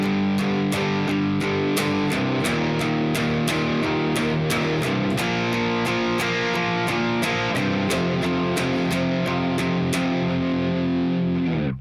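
Distorted rhythm guitar playing the bridge of a song in steady quarter-note chords, loud and continuous with a ticking click marking the beat.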